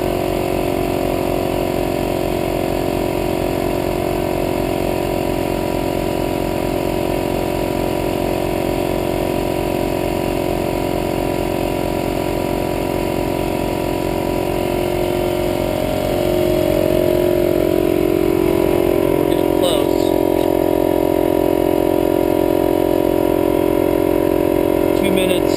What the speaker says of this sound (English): you can hear the compressor's really drawing the power on the generator